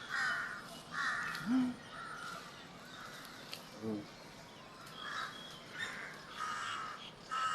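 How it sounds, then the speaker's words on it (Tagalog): Crows caw repeatedly at a distance in Lumpini Park, Bangkok, harsh calls coming in short bursts over quiet outdoor ambience, with faint voices now and then. "Daming mga uwak."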